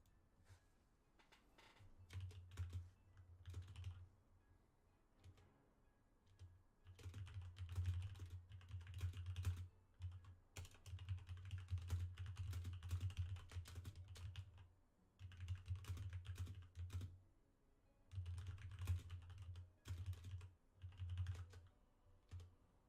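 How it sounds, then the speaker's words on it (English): Rapid clicking keystrokes on a mechanical computer keyboard during an online game match come in fast bursts with short pauses, fairly faint and close. "Typing away furiously at his keyboard. Yeah, that mechanical keyboard gets picked up to every keystroke"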